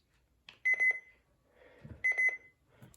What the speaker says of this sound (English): Well, listen to the button beeps.